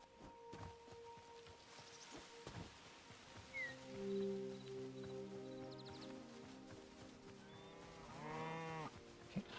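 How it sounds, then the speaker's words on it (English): Cows lowing in the video game Hytale, several drawn-out moos rising and overlapping in the middle and a rippling call near the end, over soft footsteps and rustling, fairly close and clear without speech. "Cows will run away from me."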